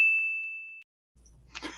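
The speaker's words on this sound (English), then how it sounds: "when we ring the bell," A single bell is struck once to reset a scene in an improv game, giving a clear bright ding that rings out and decays for almost a second before silence and faint room noise.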